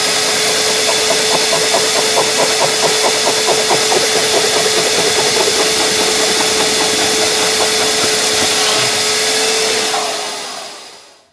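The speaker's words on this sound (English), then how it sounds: "there's nothing quite like a Crevice Tool attachment for precisely removing ingrained pet hair and dirt" A vacuum cleaner fitted with a crevice tool drones steadily and loudly as it pulls ingrained dog hair and dirt from car upholstery, with faint rhythmic scraping in the motor hum before the machine spools down near the end.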